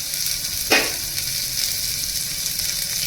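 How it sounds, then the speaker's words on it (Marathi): Garlic and chili paste sautéing in a pan, a soft steady sizzle with one brief sharp scrape or clatter early on, close by and without talk. "आणि थोडंसं परतवून घेऊया"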